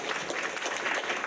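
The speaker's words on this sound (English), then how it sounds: "Let's give him another big round of applause." Seminar audience applauding after a talk on safer urban transportation, a short, dense burst of clapping heard from within the room at moderate loudness, with no voices over it.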